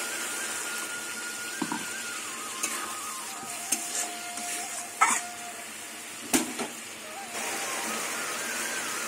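Water splashes into frying masala in a pan, and a hissing sizzle follows with scattered pops and the scrape of a spoon. The sound is close and moderately loud, and it rises again near the end.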